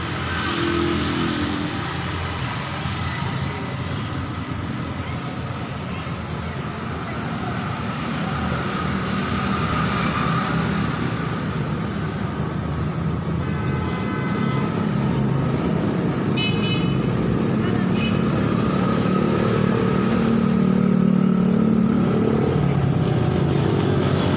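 Busy highway traffic in Pakistan gives a dense, continuous roar of cars and motorcycles, with scattered horn toots rising above the steady rumble.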